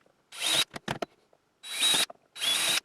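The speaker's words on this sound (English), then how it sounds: "we'll drill those out" A power drill bores out holes in a portable projector mount, three loud bursts of whirring, the middle ones broken by short squealing stutters, with quiet gaps between them.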